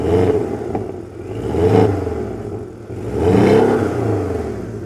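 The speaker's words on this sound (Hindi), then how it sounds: "क्या कमाल का साउंड है यार फ्रॉम दिस स्पोर्ट एग्जॉस्ट।" A Porsche 718 Boxster 2.0 petrol with PDK and sport exhaust revs twice, each blip rising and falling in a deep, close engine roar with a steady idle between.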